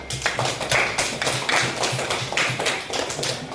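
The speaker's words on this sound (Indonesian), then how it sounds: "Tepuk tangan dulu untuk Isya." A classroom of students applauds a classmate, many hands clapping in a steady, fairly loud patter that runs without a break.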